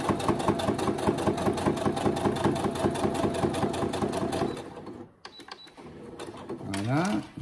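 A sewing machine stitches a thick seat belt shoulder pad in a fast, steady mechanical rattle that stops abruptly, then brief handling noise and a voice talking near the end.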